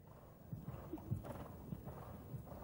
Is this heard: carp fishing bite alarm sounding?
no